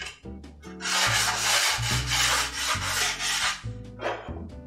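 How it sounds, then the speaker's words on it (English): Sandpaper rubs back and forth across wooden edges in several steady strokes, a close, scratchy rasping that swells and fades with each pass, no voices. "I want to run just a quick sanding over the edges to clear away any rough spots"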